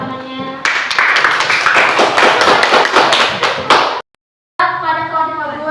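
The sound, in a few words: classroom applause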